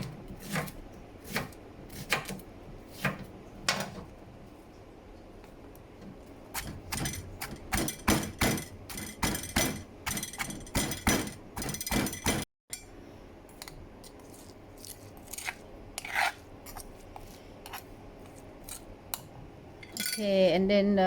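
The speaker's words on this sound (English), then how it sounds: "Yeah, you slice first. Slice into small pieces." Knife chopping garlic and shallot into small pieces for Thai red curry paste, giving repeated crisp taps on a board in irregular bursts with some clinks, fairly quiet and close, with occasional talk.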